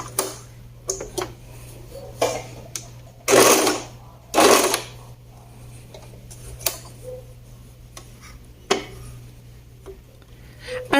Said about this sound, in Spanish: Así rematamos en over.